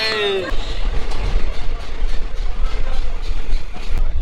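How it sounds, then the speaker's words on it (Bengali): A train rumbles steadily up close as it arrives at Bandel Junction, with a low engine drone and faint clacking; a brief squeal or whistle sounds at the very start. "ট্রেন এসে পৌঁছে গেল ব্যান্ডেল জংশনে"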